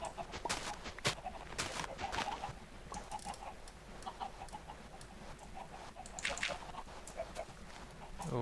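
Chickens cluck in short, scattered bursts in Minecraft, fairly close, with a steady low background hum and a few sharper clicks between calls.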